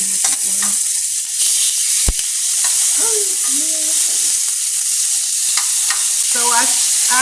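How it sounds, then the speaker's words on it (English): A steady, close sizzle of meat frying in a hot pan, with occasional scrapes and clinks of a utensil moving food around. "I know this thing is going to get the sizzling. I am going to do my steak first."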